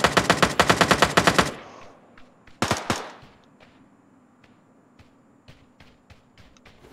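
Automatic gunfire in Ring of Elysium: a fast, loud burst of closely spaced shots, a shorter second burst, then scattered fainter single cracks at a distance.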